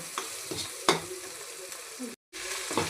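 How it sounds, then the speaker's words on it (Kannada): Crackling sizzle of spice tempering with chilli powder frying in oil, punctuated by a few scraping stirs and a short gap of silence near the end. "ಇದನ್ನು ಸರಿಯಾಗಿ ಒಗ್ಗರಣೆ ಕೊಡಬೇಕು."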